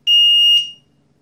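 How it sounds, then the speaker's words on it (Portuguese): A Tuya Wi-Fi smart smoke detector gives a piercing high-pitched electronic beep, two short bursts run together in about three-quarters of a second, loud and close, then the sound stops abruptly. "Ele dá três bips e para porque aquela opção tá ativada"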